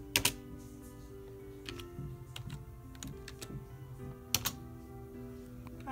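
Typing on a computer keyboard produces quiet, scattered clicks and short bursts of keystrokes over a low steady background hum.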